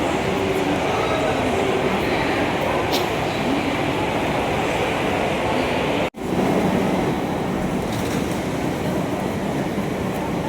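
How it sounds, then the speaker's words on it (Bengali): A metro train rolls into a station platform bound for Dum Dum, a loud, steady rumbling roar filling the space, with a brief dropout midway before the noise resumes. "মেট্রো ঢুকছে।"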